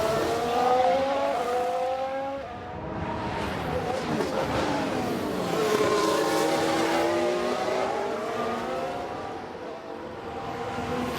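Racing cars in the F1 Manager 22 game with a 1994 Jordan-era field, one locking its brakes: continuous layered engine whine rising and falling with squealing tire tones sweeping across, loud and steady throughout.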